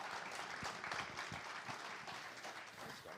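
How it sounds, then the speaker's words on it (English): A podcast guest, Adrian Giles, is welcomed with dense applause from a small live audience, a steady wash of many overlapping claps that holds for about three seconds at moderate distance. "Give him a clap."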